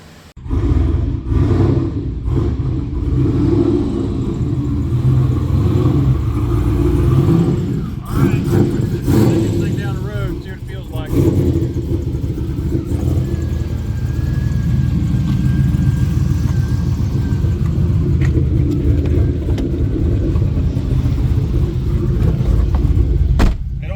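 Turbo LS-swapped rear-wheel-drive Grand Prix with a T56 manual, a deep rumbling engine driving and revving continuously, with low drone and intermittent surges under people talking.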